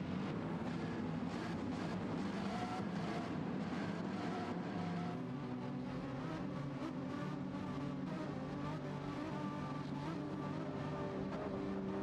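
Race car engine droning steadily in a racing video game at the Red Bull Ring, a continuous loud tone with shifting pitch as the car circles the track before the opening lap.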